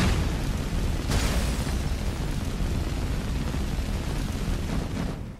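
A flame spell in Skyrim blasts against ice as a loud, continuous roaring rush of fire. It stays steady and close for about five seconds before tapering off.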